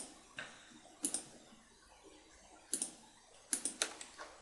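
Computer keyboard keys pressed to delete files, a few scattered taps then a quick cluster of four or five clicks near the end, close and clear in a quiet room.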